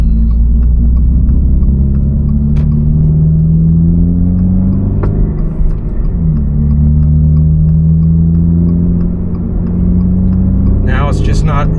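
A GR86/BRZ sports car fitted with an AWE Touring exhaust drones with a deep, steady engine rumble from inside the cabin, its pitch rising and settling through gear changes, loud and close throughout.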